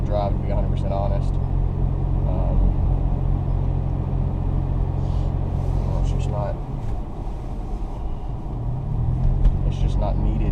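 Toyota FJ Cruiser climbing a paved road near Banner Elk in January snow country, a loud continuous engine rumble and road drone heard from inside the vehicle, steady throughout with slight shifts in pitch.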